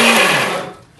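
A mixer grinder blending rava and banana whirs loudly for under a second, then winds down and fades out.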